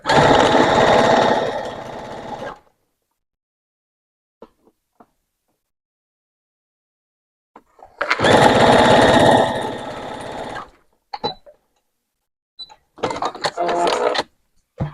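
A sewing machine runs a straight stitch through fabric for a small handmade teddy bear, loud steady whirring bursts of a few seconds each, separated by silences and light clicks of handling.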